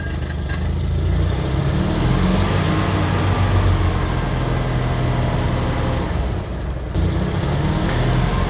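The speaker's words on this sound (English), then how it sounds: "the clanging sound you can hear is a centrifugal clutch" A small Invacar engine idles steadily and loudly throughout, with a rough, rattly metallic chatter from its centrifugal clutch riding over the low rumble.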